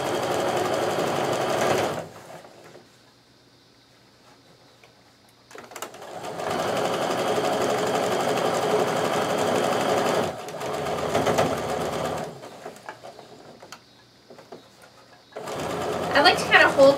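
A sewing machine runs in long bursts stitching a seam on a box-shaped project, steady mechanical whirring that stops and restarts, with quieter gaps between runs.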